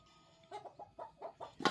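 A chicken clucks outdoors in a rural Thai setting, giving a string of short, soft, evenly spaced clucks that ends in a louder, sharper squawk.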